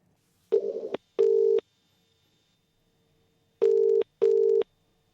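Two pairs of short telephone ring tones, loud and close, separated by silence and repeating with no answer or voice.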